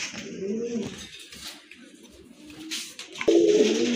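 Silver dam pigeons coo in a loft, soft rolling calls heard close, with a louder burst at the end and voices talking in the background.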